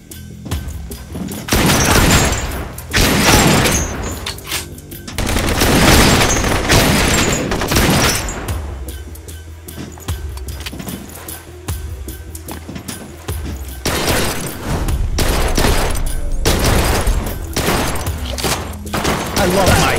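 Gunfire in the video game Blue Estate comes as sustained, loud bursts of shots and booms, nearly continuous across the scene with brief lulls, layered over a dense action game mix.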